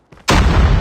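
Grenade blast in Call of Duty Mobile: a short click, then a sudden loud, close boom with heavy low rumble that stays full through the final half second.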